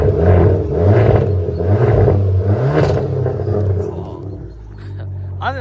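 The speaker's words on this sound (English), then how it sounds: "Gonna give it a little rev for you." 2018 Abarth 595 with a Magneti Marelli exhaust revved repeatedly, each blip rising and falling in a loud, close burst, roughly four rhythmic revs before settling back to a lower idle.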